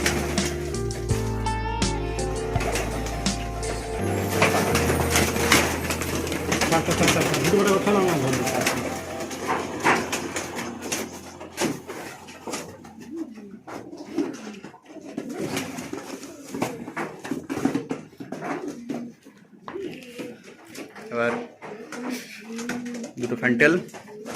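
Domestic fantail and sundori pigeons coo in soft, repeated murmurs amid handling noise and rustling, with people talking loudly over them throughout.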